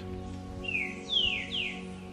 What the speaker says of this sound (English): as the birds are singing softly in nature